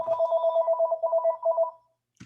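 A house phone rings with two electronic trills, each a rapid warbling burst, heard clearly and alone before a brief faint noise at the end.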